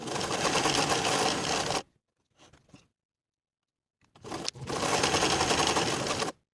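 A sewing machine topstitches the side edges of a kangaroo pocket on a winter sweater, running in two close, steady bursts separated by a pause with faint handling sounds.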